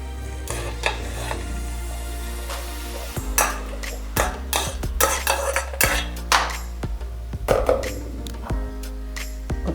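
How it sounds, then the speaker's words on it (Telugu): A metal spoon stirs cooked rice into tomato pulihora in a pan, with irregular scraping and clinking strokes against the pan, close and moderately loud over a low steady hum. "ఇప్పుడు రైస్ కలిపేసుకోవచ్చు."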